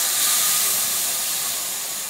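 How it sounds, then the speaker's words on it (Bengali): Pressure cooker with meat cooking inside gives off a loud, continuous hiss of escaping steam, heard up close and without a break. "এখানে ম্যাগির কুকার হচ্ছে, মানে কুকার হচ্ছে মানে ভেতরে মাংস আছে অবভিয়াসলি,"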